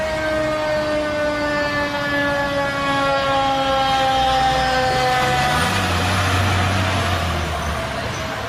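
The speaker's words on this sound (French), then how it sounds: "c'était donc les pompiers de Montréal." A Montreal fire truck sounds its siren and horn close by, a loud, steady tonal wail held throughout, shifting pitch near the end over a constant rumble of the engine and traffic.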